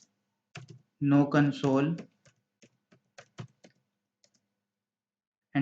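Scattered keystrokes on a computer keyboard, close and light, following a brief stretch of speech and continuing as isolated clicks in otherwise quiet surroundings.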